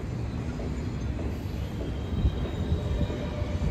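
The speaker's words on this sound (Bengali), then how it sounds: "ওই একটা ট্রেন যাচ্ছে" A train passing behind a station, heard from a rooftop: a distant low rumble with faint wheel squeal, steady throughout with no talking.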